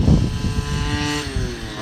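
An OBR 46cc 12hp gas engine with a silenced pipe in a 4x4 concept RC truck revs up, a loud, close buzzing whine that rises in pitch over the short burst.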